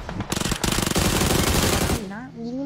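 Rapid automatic gunfire from a video game rattles in a loud, dense burst that stops abruptly, followed by a tonal in-game sound that sweeps up and down.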